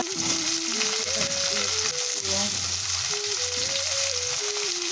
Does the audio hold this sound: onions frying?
yes